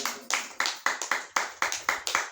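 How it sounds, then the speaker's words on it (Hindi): An audience claps on request, about ten sharp, evenly spaced hand claps ringing out close by in a quick steady rhythm, with no talk over them. "ताली बजाओ, हम बताते हैं।"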